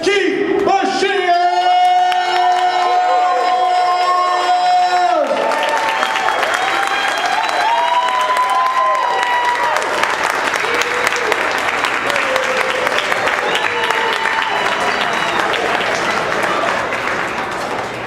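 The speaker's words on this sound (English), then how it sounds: "get on your feet, give a big round of applause. Welcome to the stage, Keith Bashir!" Loud, sustained audience applause with cheering welcoming Keith Bashir to the stage at an Ignite U event, opening over a brief tonal musical sting before the crowd noise fills the rest.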